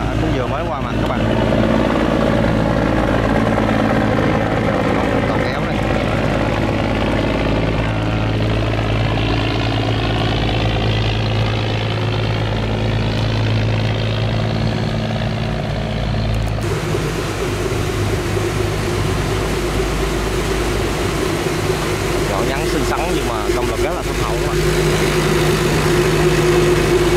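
A river boat's engine drones steadily and loud up close, then its pitch drops as the boat passes, with a barge nearby on the water; someone talks over the engine throughout.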